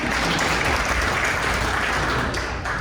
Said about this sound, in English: You can clap for that, I believe it.